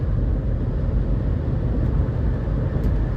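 Steady low rumble of a 2008 GMC Yukon Denali with the 6.2 V8 cruising, engine and road noise droning evenly and loud from inside the cabin with no break.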